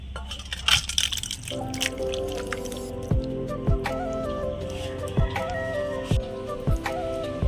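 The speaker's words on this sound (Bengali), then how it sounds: "নামিয়ে নেব উপর দিয়ে ধনে পাতা কিছু ছড়িয়ে দেবো এবার ঢেলে নেব" Thick soybean curry poured out of the cooking pan into a dish, with soft wet drips and squishy plops repeating over several seconds, close and fairly loud, with no talk.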